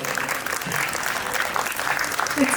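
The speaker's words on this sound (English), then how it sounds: "Can we have a huge round of applause?" An audience at a music club's tribute evening applauds steadily, a dense, even wash of clapping that holds at full strength throughout with no voices standing out.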